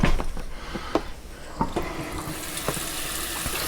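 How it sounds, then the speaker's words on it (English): Tap water runs steadily into a container in a kitchen while a pastrami brisket is prepared, with a continuous splashing rush and occasional clinks and knocks. "Now I'm just going to fill this up with water."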